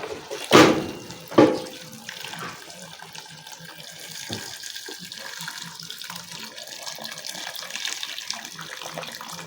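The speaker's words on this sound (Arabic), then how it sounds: "كل اللي انا هعمله دلوقتي ان انا هنزل بالميه السخنه" Hot water gushes into a pot of seasoned chicken pieces as part of making boiled chicken. A couple of loud splashes open the pour, which settles into a steady, close running-water rush.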